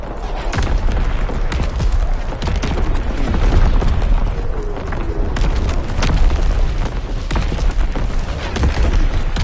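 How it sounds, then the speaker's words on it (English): Enemy artillery shelling in a PS4 video game: continuous heavy booms and rumbling explosions, loud and close, layered with scattered gunfire throughout. "Incoming enemy artillery!"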